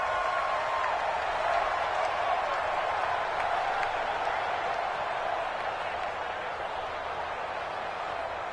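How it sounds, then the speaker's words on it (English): Broad, steady roar of a raucous football stadium crowd from a PS4 game, a dense wash of cheering that stays constant throughout, with a commentator's voice faintly mixed in. "And in front of a raucous crowd, this one is underway."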